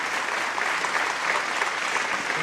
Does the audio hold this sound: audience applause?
yes